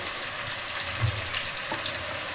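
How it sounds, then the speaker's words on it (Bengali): Potatoes frying in hot oil for a rui fish curry, a steady, close sizzle with a brief soft clunk of the pan or spoon partway through and no voices. "তো আলুটাকে একটু ভাজা হয়ে এলো।"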